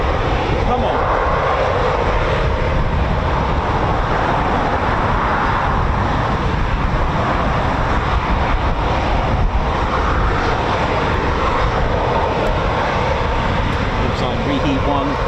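RAF Eurofighter Typhoon FGR4 jet taking off with reheat at RAF Coningsby, a loud continuous roaring rumble that holds steady throughout, with a voice faintly underneath.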